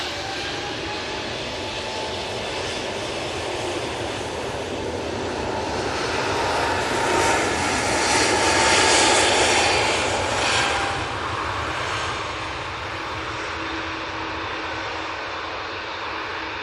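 Lufthansa jet airliner departing for Munich, a sustained heavy engine roar that peaks near the middle and eases off, steady and fairly close with no talking.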